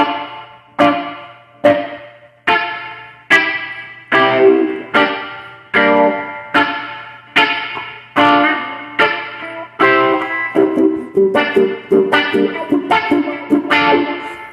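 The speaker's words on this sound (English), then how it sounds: "when you're just doing the chuck, it sounds cool if you go." Electric guitar playing a steady reggae rhythm of short, choppy offbeat chord stabs, each one ringing out with a wash of reverb, loud and up close.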